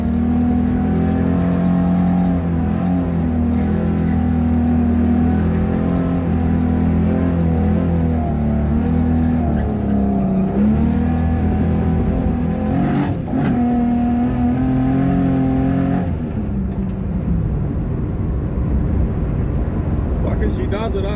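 A Mirabito Performance 265 Hemi engine in an E49 build roars loudly and continuously, its pitch rising and falling as it revs, with a voice talking over it at times.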